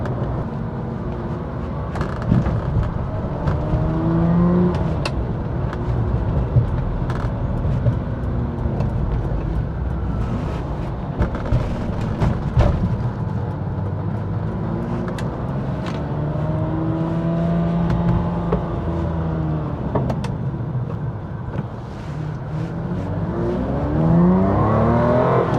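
A 1995 Ferrari 456 accelerates smoothly onto a freeway, its engine note sweeping up and down through the gears from inside the cabin, with steady road and wind noise running beneath it.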